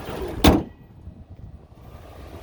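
A Ford F-150 Lariat 4x4 truck hood, a 2020 model, is pushed shut with one sharp, loud slam near the mic, followed by a low quiet rumble.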